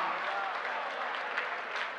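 Audience applause at a Hindi comic poetry recital, a soft, even patter of many hands clapping that sounds somewhat distant and holds steady for a couple of seconds.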